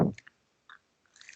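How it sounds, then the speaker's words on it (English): Soft, wet squishing and faint clicks of someone slowly chewing a marshmallow close up, with a few short bursts and a longer sticky patch near the end, quiet and with no talking. "And while Jesse is gone, I will indulge in a little more mallow ASMR."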